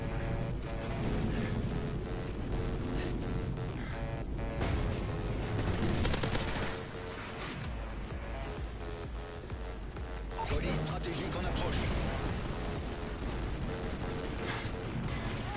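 Machine gun fire rattles on and off in Call of Duty Modern Warfare 3, with dense bursts of shooting and booming explosions filling the whole stretch, loud and near, while a player talks over it.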